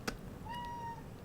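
A house cat gives a single short, rising meow, faint and somewhat distant, after a brief click in a quiet room.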